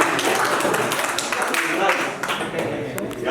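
Classroom of students clapping together after lunch, a dense patter of hands mixed with voices throughout.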